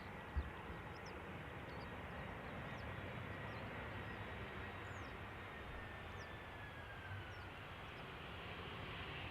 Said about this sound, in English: this is Croatia Airlines arriving from Zagreb